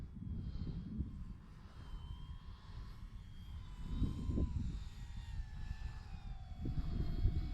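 An RC model airplane on its maiden flight drones overhead with a steady engine whine rising and falling in pitch, mid-distance and fairly faint against outdoor wind rumble, with no talking.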